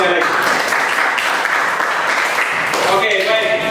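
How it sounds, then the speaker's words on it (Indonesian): A classroom of Indonesian students claps after group presentations, a dense, steady wash of applause lasting a few seconds, with voices mixed in toward the end. "Tepuk tangan sekali lagi"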